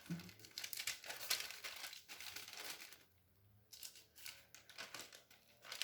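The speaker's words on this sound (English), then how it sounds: "I'm going to fold this up." A paper craft card being folded gives close, crisp crinkles and rustles in irregular bursts, with a short quiet gap midway.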